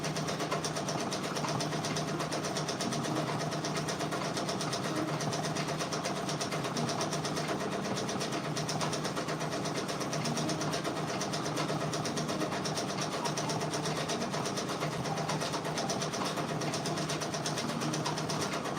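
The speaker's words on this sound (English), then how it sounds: "We're stitching out this Drake patch." An embroidery machine stitches out a Drake patch in beige thread, giving a steady, continuous mechanical whir and rapid needle chatter at an even level throughout, with no talking.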